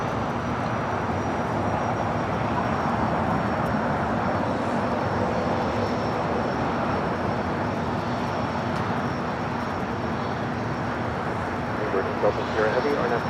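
A Lufthansa Boeing 747 arriving at LAX produces a steady, broad engine roar that holds at an even level throughout, with some talking underneath.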